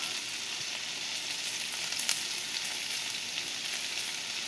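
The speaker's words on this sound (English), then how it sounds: "And allow those to saute." Vegetables seasoned with salt and black pepper sauté in a pan, giving a steady, close bright sizzle with faint stirring ticks and no talking.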